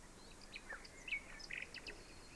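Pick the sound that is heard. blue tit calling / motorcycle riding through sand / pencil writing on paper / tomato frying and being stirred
blue tit calling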